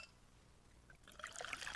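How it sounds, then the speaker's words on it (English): Pepsi Zero Sugar cola pouring in a quiet, close trickle that builds over the last second into brighter fizzing, splashing liquid, with no talk. "Listen to that endless pour."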